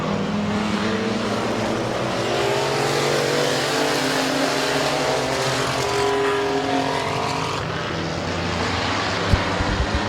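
Stock-car racing at Midvale Speedway, several race cars roaring around the oval in a tight three-way battle for the lead, engines droning and shifting pitch as they pass, loud and continuous with no talk.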